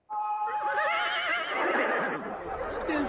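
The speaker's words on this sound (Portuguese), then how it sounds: "Cavalo." A horse gives a loud, close whinny, a long quavering neigh that holds steady and then trails off, with a hint of hoof clatter and no talk.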